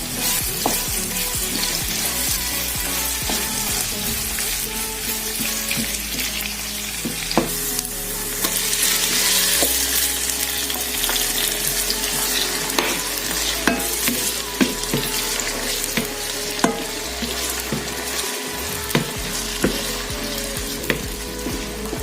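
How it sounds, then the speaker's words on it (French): Onions and tomatoes frying in a pan, a loud continuous sizzle with scattered sharp crackles and stirring clatter throughout, close and without speech. "Je commence d'abord à faire revenir les oignons quelques minutes et ensuite donc, je vais mettre les tomates."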